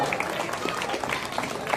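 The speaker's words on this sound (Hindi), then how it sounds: "तो मैं एक बार जोरदार तालियों के साथ स्वागत करता हूं कवि रंजन शर्मा जी का।" Steady applause from an audience at a school poetry gathering in Madhepura, a continuous wash of clapping hands at moderate volume throughout, with no break.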